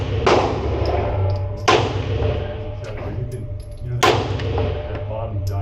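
Three sharp pistol shots from a Canik Rival-S firing 147 grain factory ammunition, evenly spaced a couple of seconds apart, each a loud crack with a short decaying tail over a low steady rumble.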